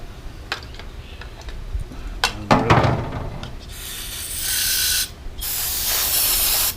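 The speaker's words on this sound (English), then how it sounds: "Spray till it runs clear." Clicks and clatter, then two long, loud hissing bursts of aerosol cleaner sprayed into a disassembled carburetor, close up, with a short pause between them.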